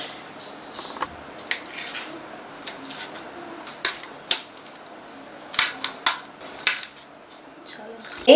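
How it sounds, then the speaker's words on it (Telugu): A knife chops through chicken pieces on a board, cutting each one in half with sharp, irregular clacks and taps. The cuts come close and fairly loud, with a quick cluster of strokes near the end and no talk. "ఒక చికెన్ ముక్క తీసుకుని రెండు కింద కట్ చేసుకోండి"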